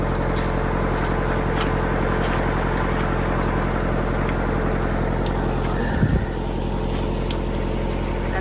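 A tractor engine runs steadily during muddy hurricane cleanup, a continuous low, throbbing drone held close and loud throughout, with a brief thump partway through and no voices.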